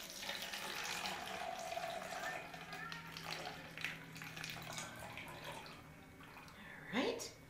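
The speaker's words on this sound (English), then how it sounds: "Right here, I've measured where it says 1 cup water. Fill that up till you get to that line." Tap water runs into a measuring cup, filling it to the one-cup line: a continuous splashing flow with a faint drip near the end, partly under a speaking voice.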